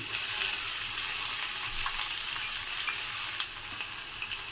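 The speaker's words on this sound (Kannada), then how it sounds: "ಆನಿಯನ್ನು ಚೆನ್ನಾಗಿ ಫ್ರೈ ಮಾಡ್ಕೊಳ್ಳಿ" Onions frying in oil for puliogre gojju, a steady close crackling sizzle with a few brief clinks, running the whole way with no talk.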